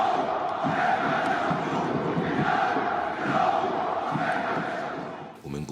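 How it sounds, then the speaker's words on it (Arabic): A large crowd of Zamalek football fans chants together in a loud, rhythmic roar, voices swelling in repeated waves across the stands. "كان فيه هتاف تاريخي قديم، بالدم والروح بنشجع الزمالك"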